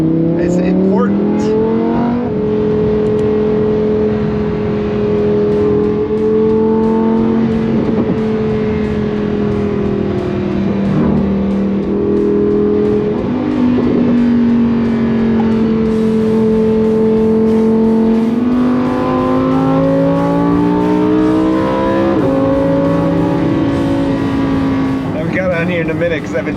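Supercars, a Lamborghini Performante, Ferrari F8 and F12, Porsche GT2RS and a McLaren, drive fast with a sustained engine drone whose pitch climbs and falls as they accelerate and shift. Talk runs over it.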